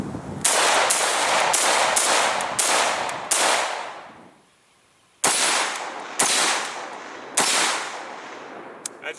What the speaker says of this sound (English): It's an interesting rifle, and we're going to shoot a little bit more